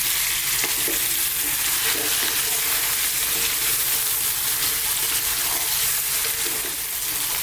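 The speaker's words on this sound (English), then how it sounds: "I just want to fry this chicken around for about 4 to 5 minutes." Chicken pieces frying and sizzling steadily in a pan for a West Indian curry, a dense continuous crackle with occasional stirring scrapes, close and alone with no voices.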